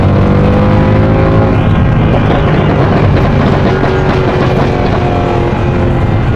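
A Mercedes C63 AMG W204 accelerates hard down an open road, its engine roaring loud and close with rising pitch, dense and continuous throughout, with crackling exhaust pops mixed into the roar.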